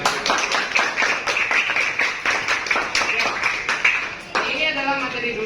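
A classroom of students claps hands together in a brisk, uneven burst that runs for several seconds, then gives way to a tonal electronic sound.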